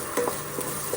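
Masala for chole is stirred in a pan, sizzling steadily while a utensil scrapes and clicks a few times, close and alone without talk.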